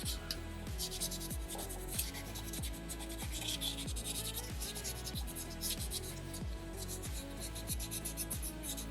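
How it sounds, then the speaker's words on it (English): A small soapstone bear carving is rubbed with a folded piece of sandpaper in quick, steady back-and-forth strokes, a close, dry scratchy rasp repeating in an even rhythm. "I'm going to fold my sandpaper up because I need to work on these smaller concentrated areas"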